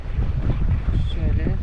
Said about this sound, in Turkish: Normal rüzgarda artık. Bir tık rüzgarımız var.